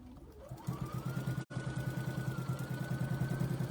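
A Bernina sewing machine stitching a fabric bowl cozy starts up and runs at a steady, rapid mechanical chatter, close and even, with a brief dropout midway.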